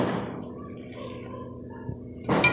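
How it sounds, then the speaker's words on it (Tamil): Water strained from ground ingredients is poured into flour for ribbon pakoda dough, giving soft splashing and trickling at the start and a louder burst of pouring near the end, close and quiet between. "இந்த மாதிரி கொஞ்சம் கொஞ்சமாக ஊற்றி மாவு பிசையணும்."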